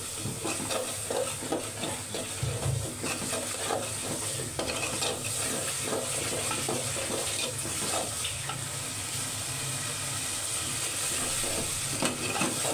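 Turmeric and coriander powder with a little water fry and are stirred in a pan, a steady sizzle under repeated scraping stirs throughout, close and continuous.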